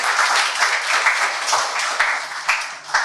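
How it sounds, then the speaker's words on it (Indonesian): An audience claps at a talk on communication and productivity, a lively sustained round of applause with a few sharper individual claps standing out, close and fairly loud throughout. "Tepuk tangan dong."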